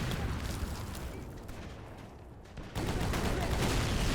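Dense gunfire from a trench shooter video game, shots piling into a loud, continuous barrage of rapid cracks that briefly eases midway, then surges back even harder for the final stretch.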